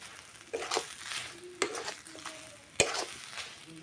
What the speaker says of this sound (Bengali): এবারে আমি এটাকে কষাতে থাকবো।